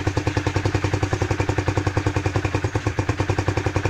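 A Rusi Classic 250 motorcycle idles with a silencer fitted to its stock exhaust, a close, even, rapid thumping pulse that holds steady, with no voices.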